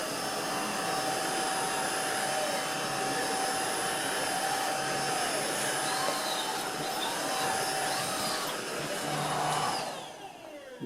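A Tineco Pure One S11 cordless vacuum cleaner runs with a steady, loud, even motor whine throughout, alone and with no talking, then winds down near the end.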